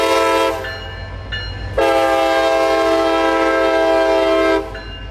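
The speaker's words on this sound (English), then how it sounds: "we are greeted almost immediately with the sight of CSX train A777" A CSX freight train on the Central Florida Rail Corridor sounds its horn, a loud close multi-tone blast in two long pulses with a brief lower gap between, over the rumble of the passing train.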